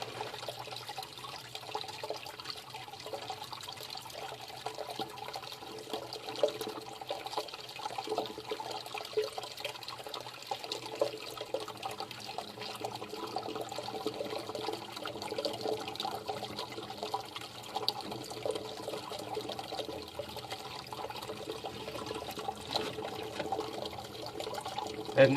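Steady rushing and trickling water flows continuously from a sewer main clean-out drain, a broad wet hiss with gurgling detail, fairly close and unbroken throughout.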